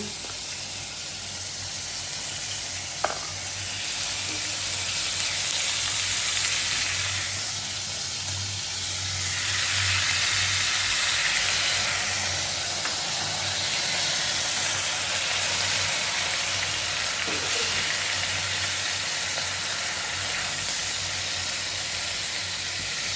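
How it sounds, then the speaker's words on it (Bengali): Ginger and garlic paste sautéing in a pan, with blended onion, gives a steady, close sizzle and hiss that swells and eases across the whole stretch, with a faint click or two and no voices. "আদা রসুনটা কষানো হয়ে গেছে"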